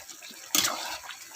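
A small splash of water poured into a pan of potatoes and okra cooking over a clay village stove, a brief soft gush lasting under a second.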